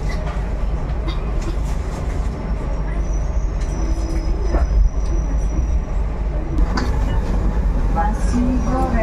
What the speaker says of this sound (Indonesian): pada pukul 8:55 kereta api Pangrango diberangkatkan dari stasiun Maseng